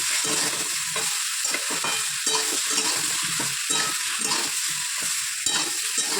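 Cumin seeds frying in hot oil, a dense close sizzle with rhythmic stirring scrapes pulsing steadily throughout, no voices.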